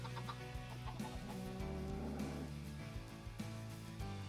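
Chickens in modded Minecraft (All The Mods 10) cluck in short, repeated bursts over a steady low background hum, fairly faint and without talk.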